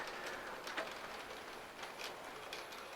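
Faint, steady clicking and rattling of a Bachmann N scale Pennsylvania Broadway Limited model train set rolling along its track, with soft irregular ticks over a quiet hiss and no voices.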